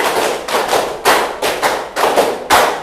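A class of students claps in unison during a counted clapping game, sharp group claps landing in short rhythmic bursts and pauses, loud and close.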